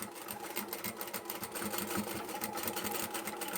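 A sewing machine runs steadily, stitching over the handle of a reversible lined fabric shopping tote bag with a fast, even, close-up rattle of needle strokes.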